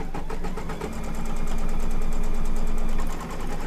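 Embroidery sewing machine stitching down applique pieces on an in-the-hoop quilt block, a loud, close, rapid mechanical rattle of fast needle strokes that runs steadily and dips briefly twice.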